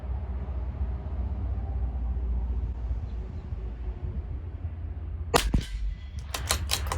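A CZ457 rifle firing Eley Tenex Biathlon ammunition at 50 yards lets off five sharp cracks in quick succession after a stretch of steady background noise, loud and close.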